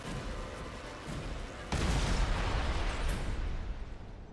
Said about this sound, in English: just a poorly animated and really dumb explosion just now